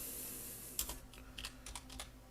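Typing on a computer keyboard while entering a command on an Ubuntu server, a handful of quiet close key clicks in an uneven rhythm over faint background hum.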